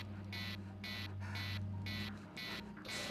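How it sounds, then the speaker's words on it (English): The emergency buzzer of a power generator in the Tin Can space survival video game, a series of about five evenly spaced electronic buzzes over a steady low hum, with no talk. "the power generator gives that emergency buzzer, because it does that every time"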